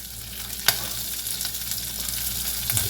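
Italian seasoning gets stirred through a sizzling pot of pizza soup, a constant frying hiss broken by a sharp spoon knock near the start and lighter scrapes, close and unaccompanied.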